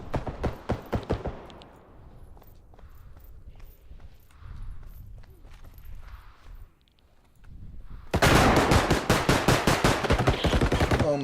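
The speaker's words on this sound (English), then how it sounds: "Pulling out the pistol again." Pistol fire in a video game: a quick string of sharp shots opens, followed by quieter scuffling and movement, then a loud, rapid volley of shots near the end.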